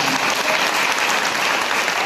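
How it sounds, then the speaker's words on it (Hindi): Dense, steady applause from a congregation at a sermon on love, filling the whole stretch at an even, loud level with no voice above it. "ताली बजा"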